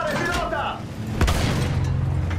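Gunfire and explosive booms from the Battlefield 1 video game, a sharp blast near the middle over continuous rumbling battle noise, with someone talking over it.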